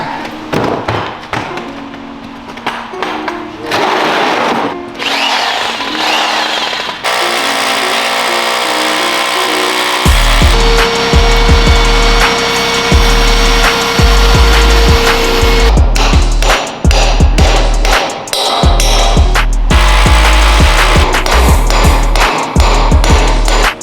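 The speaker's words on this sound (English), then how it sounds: "I'm bolting it straight to the concrete this time" Work installing a two-post car lift on a concrete floor: loud power tool drilling and buzzing, a sustained motor whine, then repeated heavy impact bursts and thuds as bolts are driven into the concrete, close and loud.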